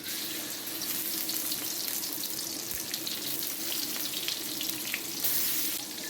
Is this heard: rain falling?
no